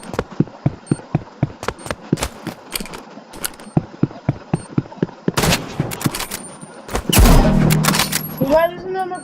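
Rapid gunfire in the Roblox shooter Rivals: a long run of sharp, evenly spaced shots, then a dense louder burst and a heavy blast near the end, with a voice talking over parts of it.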